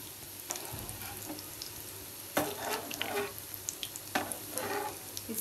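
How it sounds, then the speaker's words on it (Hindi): Chicken bread balls frying in hot oil, a steady close sizzle with occasional sharp clinks and scrapes from a utensil turning them gently. "इनको हमने फ्राई कर लेना है लाइट ब्राउन से"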